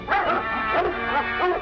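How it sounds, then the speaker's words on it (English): Dogs on the grounds of a governor's estate yelp and whimper in an excited, continuous run of overlapping high cries, close and fairly loud, in a 1940 crime adventure serial. "Something stirred up the dogs."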